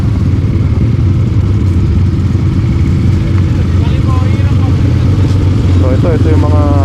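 Several ATV engines idle and rev at Cagsawa in Daraga, Albay, Bicol, a loud steady mid-pitched rumble that runs throughout, with people talking over it.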